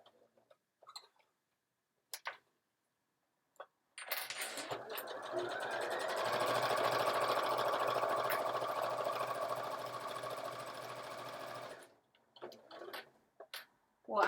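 A sewing machine stitches a Sew Together Bag in one steady run of about eight seconds, with faint clicks and brief handling sounds on either side of the burst.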